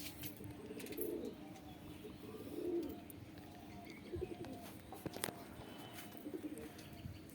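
Domestic pigeons kept in a home loft give soft, low cooing calls in a few repeated bursts, fairly quiet and close, along with faint rustles and some light clicking in the background.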